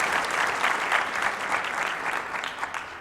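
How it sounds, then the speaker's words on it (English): An audience in a university memorial chapel claps steadily, a lively, fairly close burst of many hands with a slightly pulsing rhythm and no speech over it. "Let's give them another round of applause."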